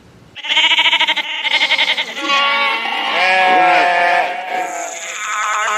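Sheep bleating loudly and close, a run of repeated wavering bleats from one or more animals, with overlapping calls continuing throughout.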